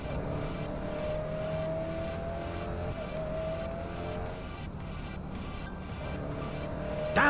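Car engine in the Saints Row 4 video game, a steady loud drone with a sustained tone that shifts pitch over about seven seconds, running alone without talk.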